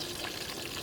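Pork belly skin fries in hot, splashing oil outdoors with a dense, loud, continuous sizzle and crackle filling the whole moment.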